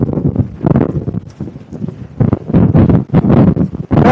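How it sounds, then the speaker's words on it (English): Breezy wind on a hilltop buffets the microphone in loud, gusty bursts that come and go, with rustling mixed in, close and rough throughout. "A bit breezy up here."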